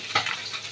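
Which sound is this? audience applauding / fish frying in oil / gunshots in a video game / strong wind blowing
fish frying in oil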